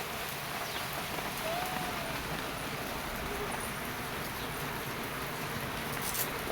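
Rain falls outdoors on a school day in a dense, unbroken hiss of drops on surfaces, heard alone at a steady moderate level.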